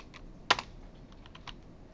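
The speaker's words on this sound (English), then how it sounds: "If you're wondering how I'm typing it so fast" Fast typing on a computer keyboard during a programming lecture, with light, quick key clicks and one sharper, louder tap near the start, close-up and with no talking.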